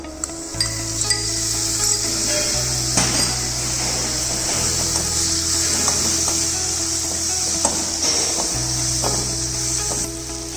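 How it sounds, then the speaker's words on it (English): Masala and chopped tomatoes sauté in a hot pan, a steady bright sizzle throughout with occasional stirring clacks of a utensil against the metal, over a low background hum. "Lightly saute masala, then add chopped tomatoes"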